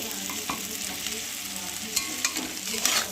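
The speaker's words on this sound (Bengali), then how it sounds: "আর ভালো করে ভেজে নেব" Vegetables and sauce for chowmein fry in a hot pan with a steady, close sizzle, broken by a few stirring scrapes.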